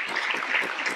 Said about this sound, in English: So can we applaud for that trailblazing history?